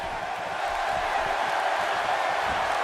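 Dense crowd noise fills a wrestling arena, a steady wash of cheering and shouting with no breaks.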